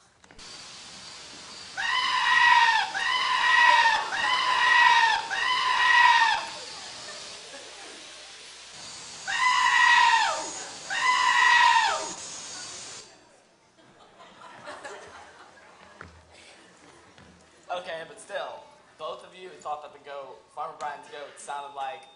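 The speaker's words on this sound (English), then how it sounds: "your neighbor's goat that screams like a human" A neighbor's goat that screams like a human lets out loud, strained, human-like cries in two rapid bursts of several calls each, then quiet and people talking.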